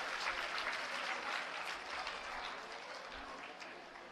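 A seated audience claps strongly at a government school inauguration in Delhi, a dense, even wash of applause sustained throughout and heard from within the crowd.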